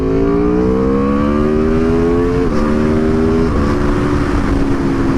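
A 2019 Aprilia RSV4 1100 Factory superbike engine drones loudly and steadily leaving the pit lane at Mugello circuit, pitch rising gradually and dropping briefly at each gear change as it pulls away.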